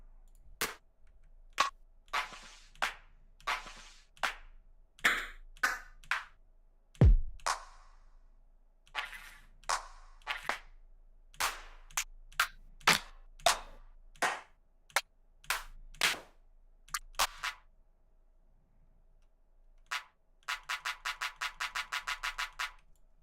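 Sharp, dry clap samples in a song being produced sound one after another in an irregular series, then a quick even burst of rapid claps at the end, with no talking.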